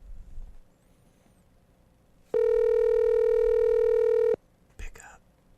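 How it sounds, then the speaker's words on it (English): A telephone call's ringing tone sounds as one steady, loud electronic tone lasting about two seconds, with faint murmuring before and a short rustle after. "It's ringing."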